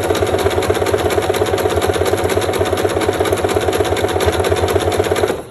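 A sewing machine runs steadily while stitching a fabric-wrapped rope bowl, giving a continuous even mechanical whir with a regular pulsing rhythm, close and loud throughout.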